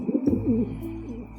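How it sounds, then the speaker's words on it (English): A talking pigeon in the video game 3 Minutes to Midnight gives a close, fairly loud burst of warbling coos that runs for most of the short moment, alone without talk. "Talking pigeon, eh?"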